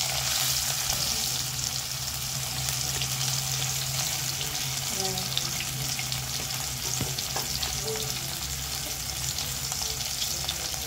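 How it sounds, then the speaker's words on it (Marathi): Fish fillets fry in hot oil in a pan, giving a steady, dense sizzle and crackle that runs unbroken throughout, with a low hum underneath and a few faint clinks. "गरम असल्यामुळे जास्त वेळ नाही लागणार फ्राय करायला."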